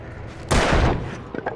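A single loud, close gunshot in a dark action game, a sharp blast that rings out and tails off over about half a second, followed by faint clatter.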